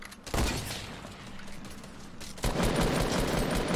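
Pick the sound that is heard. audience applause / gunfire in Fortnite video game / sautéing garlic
gunfire in Fortnite video game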